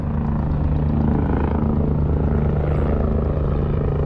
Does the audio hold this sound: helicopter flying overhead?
yes